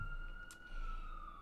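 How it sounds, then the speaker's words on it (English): A steady, wavering emergency-vehicle siren on a New York City street holds a continuous wail throughout, moderately loud and constant, with a brief sharper burst midway. "Avital Kaye Tzadok of Haruv, who is being welcomed by the sirens of New York City"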